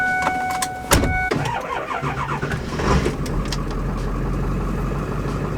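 A truck engine cranks and catches, then settles into a steady rumbling idle, close by with no voices.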